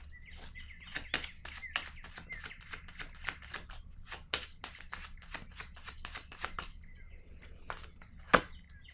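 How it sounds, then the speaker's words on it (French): Tarot cards are handled and laid on a table in a series of quiet, crisp slaps and shuffles at an irregular pace, close and faint, with one sharper snap near the end and a soft hum behind. "Je vais déposer une autre carte ici."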